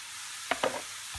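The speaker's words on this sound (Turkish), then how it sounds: "Şimdi soğanlarımızı ekliyoruz maydanoz ve soğan ve sarımsak" Zucchini fries in a pan with onions, parsley and garlic, giving a constant soft sizzle broken by a couple of quick scraping stirs near the middle.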